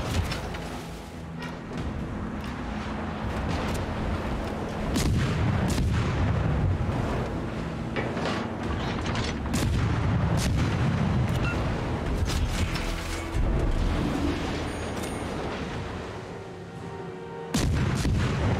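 Heavy naval gunfire from an enemy warship in World of Warships, booming salvos and sharp cannon cracks repeating irregularly over a constant low rumble of sea and engine, loud and close throughout with no talking.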